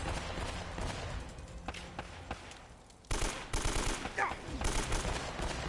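Gunfire in Uncharted: Drake's Fortune, rapid bursts of shots and sharp cracks throughout, getting denser and louder after the midpoint.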